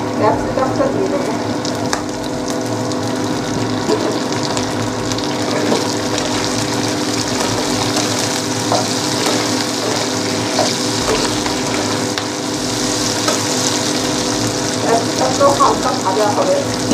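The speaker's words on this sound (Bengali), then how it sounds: "ক্যাপসিকামটা দিয়ে দেবো" Capsicum frying in a pan for chilli chicken gives a steady, fairly loud sizzle with occasional stirring scrapes, continuous throughout.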